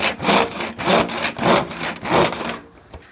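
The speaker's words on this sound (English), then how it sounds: "I've got to cut a small piece to go here" A small piece of PVC gutter pipe is sawn by hand: four loud, close, rhythmic back-and-forth strokes, each a rasping swell, then the cutting stops and the sound falls quiet.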